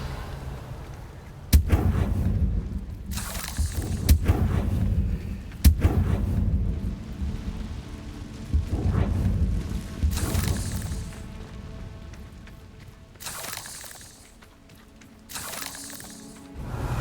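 Deep, booming spell blasts in the Hogwarts Legacy game, several loud explosions with rumbling tails, some sharp cracks, recurring every few seconds over continuous roaring combat noise.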